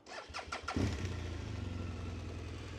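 A BMW R1200RS motorcycle engine with 19,000 km on it cranks briefly, then catches and runs at a steady, fairly quiet idle close by.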